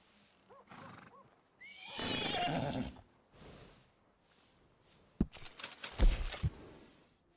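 A workhorse whinnies loudly in Red Dead Redemption 2, a long shrill neigh in the middle followed by snorts, thumps and hoof clatter, with quieter gaps between.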